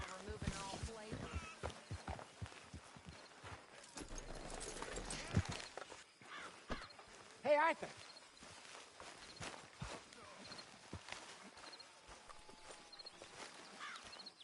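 Horse hooves clip-clop steadily at a walking pace in Red Dead Redemption 2, fairly quiet and close, while characters talk over the soft rhythmic steps.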